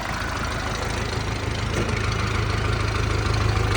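The engine of a Jinma 504 tractor runs steadily, a loud continuous low chugging rumble close by with no talk.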